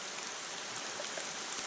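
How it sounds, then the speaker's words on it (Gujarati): Heavy rain pours steadily onto a village field during a guar harvest, a dense, even hiss of drops with no break and no voices. "અત્યારે જો આવે છે જોરદાર વરસાદ. અવાજ કેટલો આવે છે"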